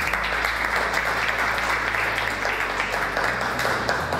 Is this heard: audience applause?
yes